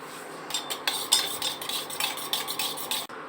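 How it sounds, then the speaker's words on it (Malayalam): Homemade henna body lotion being mixed in a bowl, a quiet, rapid scraping and clicking of a utensil that repeats steadily throughout. "ഇനി നന്നായിട്ട് അതിനൊന്ന് മിക്സ് ചെയ്ത് കൊടുക്കാം."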